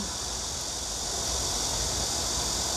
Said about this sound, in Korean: 매미가 다시 울어요.